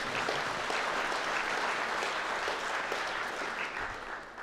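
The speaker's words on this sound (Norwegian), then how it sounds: "Og så må dere klappe en gang til" Steady audience applause at a church service, an even wash of many hands clapping, moderately distant and uninterrupted.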